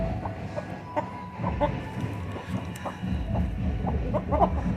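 Medak breed chickens on a breeder farm, clucking softly and intermittently at close to middle distance over a steady background murmur.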